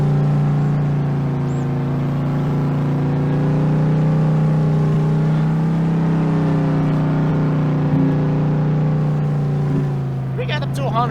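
A modded Ford car engine in Farming Simulator 22 drones loud and steady as it accelerates, its tone climbing gradually with no talking over it.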